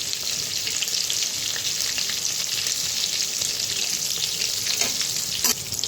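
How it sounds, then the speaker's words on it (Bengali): Eggplant pieces seasoned with turmeric and salt frying in hot oil, a loud continuous sizzle and crackle with occasional brief spikes of spatter, no voices over it. "তো বেগুনগুলো ছেড়ে দিই, তেলটা গরম হয়ে গেছে।"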